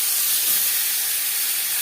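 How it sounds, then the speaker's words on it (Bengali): Bata fish fry in hot oil in a wok, giving a loud, steady hiss that continues without a break and with no voices. "মাছ ভাজা হয়ে গেছে, উঠিয়ে নেওয়ার পর পরের মাছ ভেজে নেব।"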